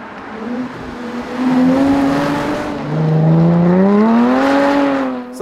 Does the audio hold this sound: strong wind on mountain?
no